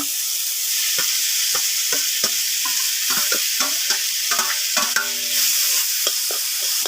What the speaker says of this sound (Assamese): এতিয়া ইয়াত সিজাই লোৱা আলুখিনি দি দিম।